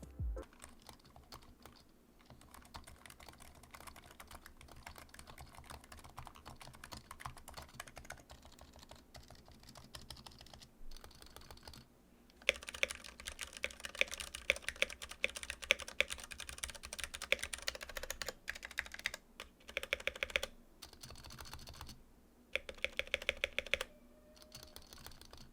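Typing on Ducky One 2 Mini with Cherry MX Brown switches and Razer Huntsman Mini with linear switches, both with double-shot PBT keycaps: two runs of rapid, steady key clicks and clacks up close, the second louder and sharper, with no talk.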